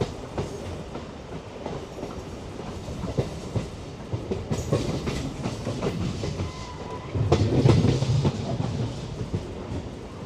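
MEMU special train running from Coimbatore to Dindigul, recorded on board with steady rolling wheel clatter, rattling carriage noise and a heavier rumble surge near the end.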